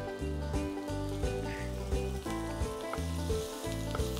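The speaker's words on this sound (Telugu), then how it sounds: "బటర్లో ఈ అల్లము వెల్లుల్లి స్ప్రింగ్ ఆనియన్స్ వేగిన టైంలో" Ginger, garlic and spring onions frying in butter in a pan, a moderate steady sizzle with rhythmic stirring strokes every half second or so.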